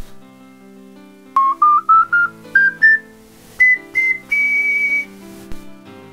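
A homemade clay ocarina with a new fipple design plays a rising scale of short, clear, high whistling notes, about a dozen in a row, ending on a longer held tone, loud and close.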